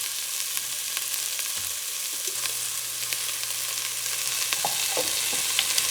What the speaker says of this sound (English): now I'm gonna add some garlic and a, quote, generous pinch of salt.